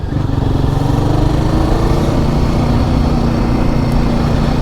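A Royal Enfield Guerrilla 450 motorcycle engine running steadily at speed, loud and continuous with a low throbbing drone and no voices.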